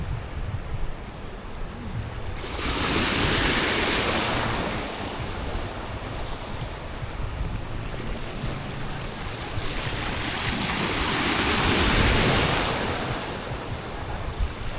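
Sea waves break and surge against a rocky provincial shore, two big swells building and crashing loudly over a constant windy wash of surf.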